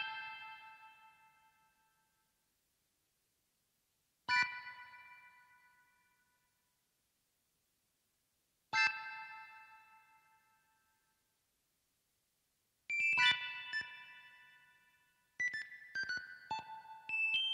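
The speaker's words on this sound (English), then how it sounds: "Next is the Vox Continental organ." Vox Continental organ patch with the Saint Pierre preset, playing bell-like struck tones that ring out and fade over several seconds, spaced apart, then quicker clustered notes near the end; no talking.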